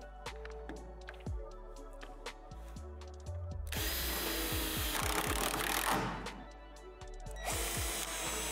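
A power drill drives self-tapping screws into basketball system frame pads: sharp clicks and taps first, then a loud whirring drill burst, a brief pause, and another short spin.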